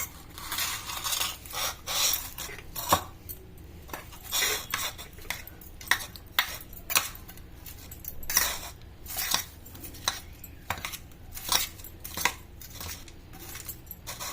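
Rice dishes for Bathukamma being mixed in a metal pot: a close series of irregular clinks and scrapes of a spoon against the vessel, with no voices.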